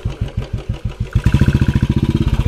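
A motorcycle engine idles up close, its exhaust chugging in slow, even pulses that quicken and steady into a faster throbbing rhythm as the bike is moved inside, with no talking over it.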